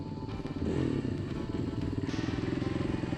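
Oncoming 4x4 vehicles pass on a Simpson Desert track near Birdsville, their engines a loud, steady rumble with rattling clatter that swells and holds close by throughout.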